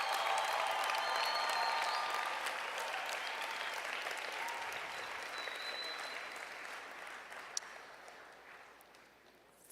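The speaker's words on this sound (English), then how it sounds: "Let's give her a round of applause and a happy birthday" An audience at a district conference closing ceremony applauds for a woman's birthday, a long, fairly distant round of clapping that slowly fades.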